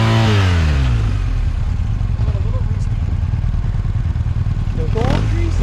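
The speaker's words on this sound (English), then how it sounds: "Nothing like a bike ride in Colorado in September" A motorcycle rides along a Colorado road in September, its engine droning steadily and loudly under wind rush, with a rising rev sweep near the start and another near the end.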